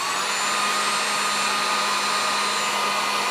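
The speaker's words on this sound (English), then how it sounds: "We'll take your glue stick, your heat gun again." A heat gun blows hot air onto a glue stick while replacing a fishing rod tip, a steady loud whooshing roar with a faint hum running unbroken from start to finish, no voices.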